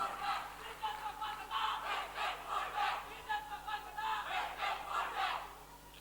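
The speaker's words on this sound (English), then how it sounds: "Could we have a loud round of applause for them?" An award ceremony audience for winning teachers roaring with cheers and shouts, a crowd of voices swelling in rhythmic waves, loud and close for several seconds.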